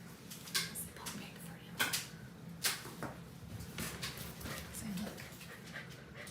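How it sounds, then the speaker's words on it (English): Puppies growling and whimpering during an indoor gathering, short soft yips and panting bursts scattered across the moment at moderate distance, with people talking nearby. "You hear the growling."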